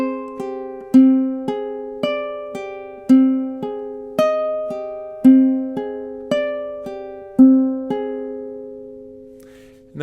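Ukulele chords strummed on the beat in a steady four-count pattern, each strum ringing and decaying before the next, played alone and close.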